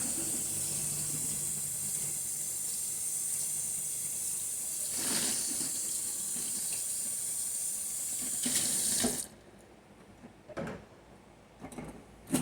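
Hot water runs steadily from a kitchen sink tap during dishwashing, a continuous close splashing hiss with a few clinks and swells before the flow stops, followed by brief scattered handling sounds.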